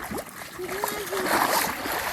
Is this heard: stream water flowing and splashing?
yes